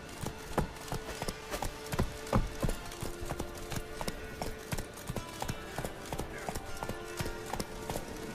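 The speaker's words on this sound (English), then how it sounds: "Run, Roach." Roach the horse gallops in The Witcher 3 video game, with rapid rhythmic hoofbeats thudding on the ground over a steady background, up close and continuous.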